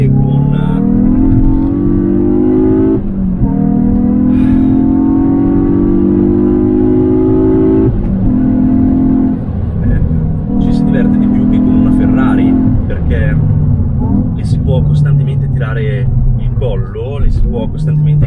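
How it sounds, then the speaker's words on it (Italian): A Hyundai i20 N hot hatch drives hard, its engine droning loudly near 3500 rpm with pitch rising between gear changes while the exhaust crackles and pops, and someone speaks over the engine. "Sentite che belli gli scoppietti a 3500 giri."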